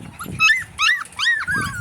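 Puppies only a few weeks old whimper and yip at close range in high, wavering cries, several overlapping in quick succession.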